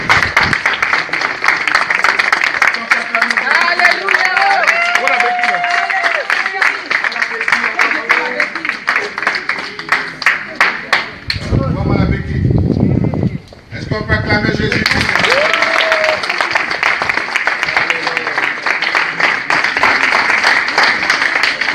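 A church congregation at a healing and deliverance service claps and cheers loudly and continuously, with dense applause that briefly dips before surging again.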